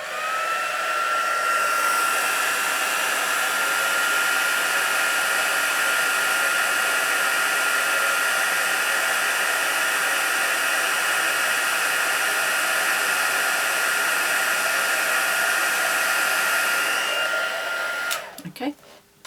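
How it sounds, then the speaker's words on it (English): A crafting heat tool runs as a loud, steady blowing whoosh, close and unbroken for nearly twenty seconds before it is switched off with a brief clatter. "I'll bring my heat tool in."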